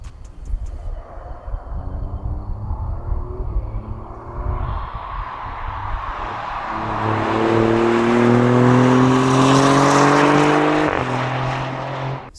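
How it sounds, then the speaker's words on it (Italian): A 530-horsepower car driven hard, engine pulling through rising revs with gear changes, growing loud and close as it builds to a sustained high-pitched roar before easing off. "Vuoi dire che io devo salire su una macchina da 530 cavalli con uno che guida"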